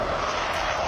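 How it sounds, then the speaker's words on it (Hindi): Jet engine roar of a Sukhoi Su-25 attack aircraft in flight, a steady, loud, broadband rush held throughout one brief second with no voices. "सुखोई 25, जिसे फ्लाइंग टैंक भी कहा जाता है, ये रूस का बहुत ही खतरनाक बॉम्बर विमान है।"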